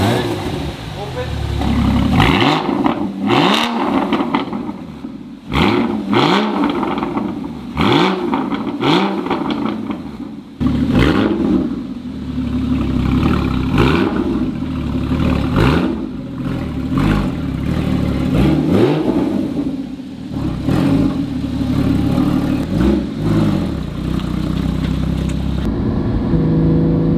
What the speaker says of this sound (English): This exhaust sounds insane. It has the perfect note.